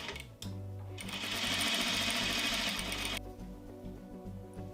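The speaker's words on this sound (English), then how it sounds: "Let's get back to sewing the dart." A sewing machine stitches a dart on a ruffle skirt, a quiet rapid mechanical whir that speeds up in the middle for about two seconds, then slows and stops.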